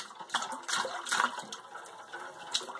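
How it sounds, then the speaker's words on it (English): A baby splashing warm bath water, with a run of quick, close, small splashes and water sloshing at an uneven rhythm. "He is splashing, Daddy."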